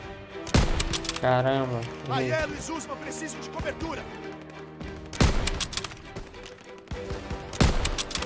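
Sniper rifle shots in the video game Call of Duty WWII, a few sharp loud cracks spaced apart amid battle noise, with a voice shouting in between.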